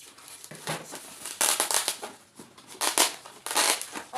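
Packaging around a glass kettle ordered from Temu being unwrapped, with repeated crinkling, crushing and tearing bursts close by, loud and irregular, nobody talking.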